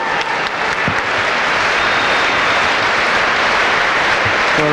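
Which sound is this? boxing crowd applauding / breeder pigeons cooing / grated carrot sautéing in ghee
boxing crowd applauding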